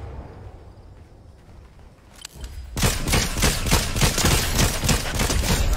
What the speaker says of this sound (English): Yeah, they're over here shooting.